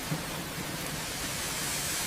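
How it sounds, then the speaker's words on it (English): Steady rain falls on a city street at night, a soft, even hiss of drops that holds at the same faint level for the whole stretch, with no voices or other sounds over it. "Only the sound of rain followed you."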